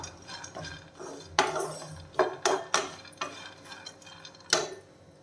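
Cashew nuts roast in a pan while being stirred, giving quiet, irregular scrapes and clinks of a utensil against metal, with a few sharper taps spaced through the stretch.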